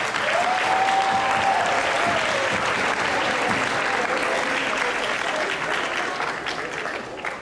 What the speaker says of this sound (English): We can all give her a round of applause